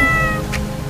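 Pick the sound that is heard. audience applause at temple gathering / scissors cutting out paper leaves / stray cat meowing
stray cat meowing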